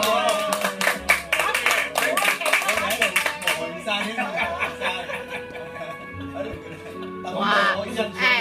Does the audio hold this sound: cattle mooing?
no